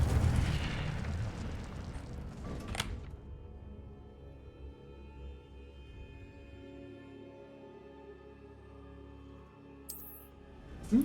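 The Incendio fire spell is cast in Hogwarts Legacy with a dense, roaring whoosh and rumble that fades into a low sustained hum and ringing tones, and then a sharp pop near the end.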